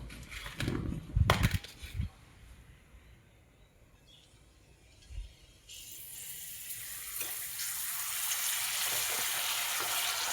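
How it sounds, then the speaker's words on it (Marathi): Urad dal papad hits hot oil in a kadhai, bursting into a loud, steady sizzle and crackle after a few clattering handling knocks at the start. "आता मी हे पापड तळून दाखवते तुम्हाला."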